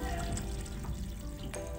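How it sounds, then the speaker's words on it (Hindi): Water poured into a pot of cooking meat for a chana dal and meat dish, a steady splashing, trickling flow running continuously at close range. "अब हम इसमें थोड़ी देर में पानी डाल देते हैं, बल्कि डाल ही रहे हैं पानी"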